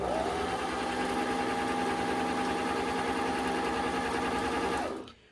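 A EuroProX Shark serger runs at steady high speed, a close, even mechanical whir and rapid rattle that winds down and stops near the end.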